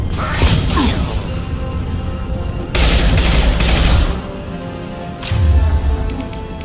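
Weapon fire in the sci-fi shooter Mass Effect 2, bursts of rapid shots and booming impacts arriving in loud clusters with brief gaps between, close and punchy.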